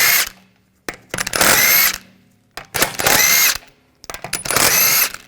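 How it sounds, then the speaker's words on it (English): An impact wrench or drill spins off the 17mm rear wheel lug bolts of a 2007-2013 BMW 328i in three loud, close bursts, each lasting under a second, with short pauses between them. "Take these lug bolts out."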